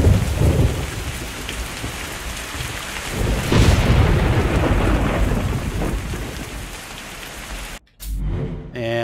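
Steady heavy rain with rolling thunder from the rain system in the tactical shooter Ground Branch, dense and loud throughout, swelling with a thunder rumble around the middle, then briefly cutting out near the end before resuming.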